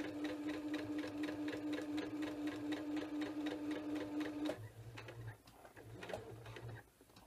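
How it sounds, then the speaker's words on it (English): A sewing machine stitches the corner of a flange pillow in a steady rapid run of needle strokes, then stops and restarts briefly for short locking stitches near the end. "When you get to where you started sewing, you're going to go back one to lock, forward to lock, and that's it."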